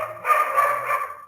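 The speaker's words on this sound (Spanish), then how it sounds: "mi perrito está ladrando" A small pet dog barks indoors in a close, loud burst of yappy barks and whining yips, with no voices over it.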